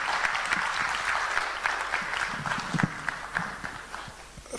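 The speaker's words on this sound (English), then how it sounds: "with a big round of applause, let's welcome our chairman for the occasion, Lawyer Bernard Owusu." Sustained applause from a lecture audience welcoming the chairman at a formal institute lecture, dense steady clapping throughout with a few louder claps near the end, no talk heard.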